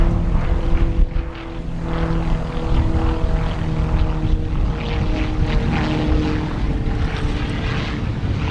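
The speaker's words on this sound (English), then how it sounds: "we have the Tecnam P2012 Traveler. Flight arriving in from Quincy," A Tecnam P2012 Traveler propeller plane arriving from Quincy, Illinois, drones steadily with a buzzing, harmonic engine tone. The sound is fairly loud and continuous throughout, with a slight rough pulsing.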